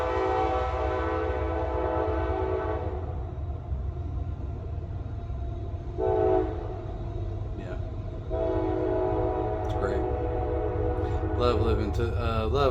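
A train rolls past on tracks right beside a home, a steady close rumble with horn-like tonal blasts rising over it, heavy and continuous throughout.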